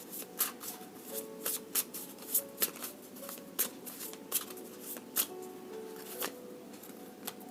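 Tarot cards are shuffled by hand nearby, a rapid series of crisp riffling flicks and slaps in an uneven rhythm, fairly quiet with no talking.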